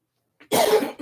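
A single close, sharp cough bursts out of a quiet room after a faint throat catch, loud and brief.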